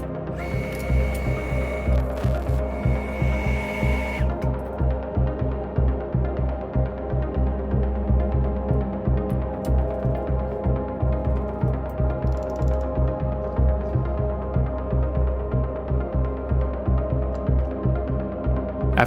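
MIG welder fusing a nut onto a broken stud during a Volvo 242 T5 swap and turbo install, a steady close crackling buzz with rapid pulsing texture running nearly continuously, with a brief high whine in the opening seconds.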